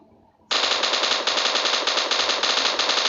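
An M249 light machine gun in PUBG opens up after a short quiet moment, firing a loud, continuous burst of rapid automatic shots that runs to the end.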